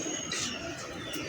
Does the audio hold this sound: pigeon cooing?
yes